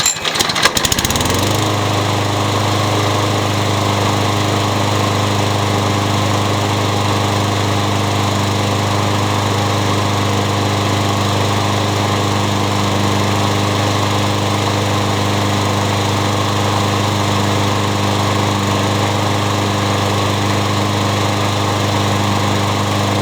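A Craftsman lawn mower engine starts with a brief rough burst and then runs loud and steady at constant speed for over twenty seconds, close by and alone.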